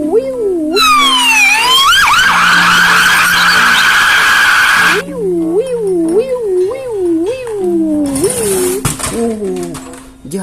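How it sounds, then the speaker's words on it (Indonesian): A toy police car's electronic siren blares close and loud, first a high sweeping wail, then a rapid warbling yelp mixed with other beeping toy tones. "ada mobil-mobilan polisi"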